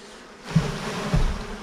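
Honeybees hum around an open hive in an apiary, a soft continuous buzz with a couple of brief low thumps as the beekeeper works, fairly close and steady.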